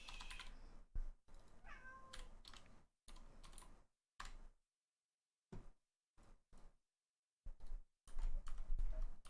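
A cat scratches at a chair in a quiet room, making faint intermittent scraping and scratching bursts separated by short silences, with a small meow-like sound early on.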